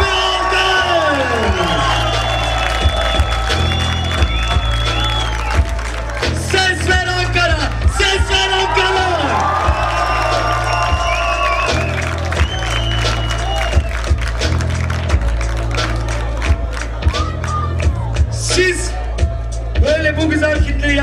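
Loud, sustained crowd cheering, whooping and applause fill a rap freestyle battle final, with yells rising over a steady beat throughout.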